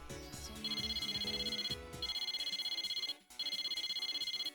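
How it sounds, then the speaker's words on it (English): A phone in Persona 4 Arena Ultimax rings in repeated electronic trilling bursts with brief pauses between, loud and close over quiet music, no talk. "There's a ringing."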